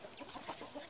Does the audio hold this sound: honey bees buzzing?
no